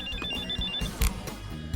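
A telephone rings with a repeating electronic tone over noisy background sound, with a sharp knock or thump midway through.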